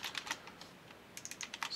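Keys clack on a computer keyboard in two quick bursts of typing separated by a brief pause, close and fairly quiet, with no talking.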